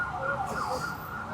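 A car horn sounds on a street in Congo, a sustained tonal blare holding steady at close to moderate range over faint background traffic.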